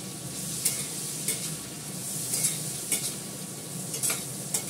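Fish frying in an iron wok with steady crackling sizzle and periodic scraping stirs about every half second to second, close and fairly loud, no voices.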